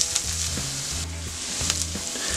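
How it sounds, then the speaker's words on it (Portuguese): Chopped onion frying in olive oil in a pan, a dense continuous sizzle and crackle, close and fairly loud, with a few soft stirring clicks. "aquecer uma frigideira com um fio de azeite, colocar uma cebola picada para fritar."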